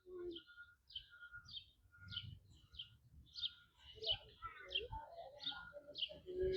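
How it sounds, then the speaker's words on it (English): Laughing kookaburras at a zoo give a run of repeated chattering calls that build in intensity, heard at moderate distance with faint background noise. "Up here we have laughing kookaburra."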